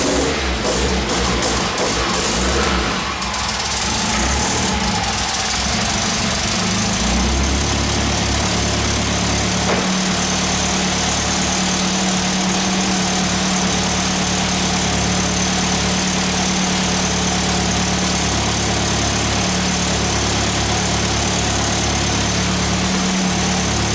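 A Mitsubishi Evo X fitted with a PT6466 turbo idles steadily and loudly up close, its rough low rumble settling after a busier start with no talk over it.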